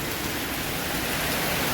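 Rain falling in Jaffna, a steady wash of broadband hiss that holds at an even, fairly loud level through the short stretch, with no voices present.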